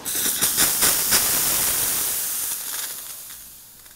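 Steam wand on an ECM Casa V espresso machine hissing loudly and steadily, with light gurgling pulses early on before the hiss slowly fades.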